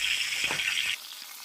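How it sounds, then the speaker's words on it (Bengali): Fish frying in a pan: a close hissing sizzle for about a second that then cuts off abruptly. "ওখানে মাছ ভাজা বসিয়ে দিয়ে"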